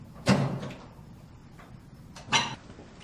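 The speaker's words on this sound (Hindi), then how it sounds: "अब क्या हुआ? दरवाजा।" A door opens or closes in an attic, making two separate bursts of creaking and knocking a couple of seconds apart at moderate loudness, with no voices.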